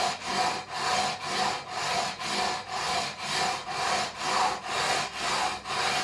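Sandpaper scrapes back and forth across the frets of a Schecter Avenger guitar in steady, even strokes, about two per second, loud and close with no talking.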